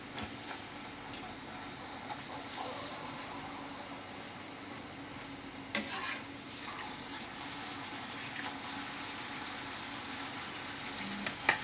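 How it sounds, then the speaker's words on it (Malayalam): Dal puri deep-frying in oil and being turned from side to side makes a continuous soft sizzle and bubbling at moderate distance, with a few faint clinks and stirs and no talk. "അതുപോലെ 2 സൈഡും തിരിച്ചും മറിച്ചും ഇട്ട് നമുക്കൊന്ന് വറുത്തെടുക്കാം"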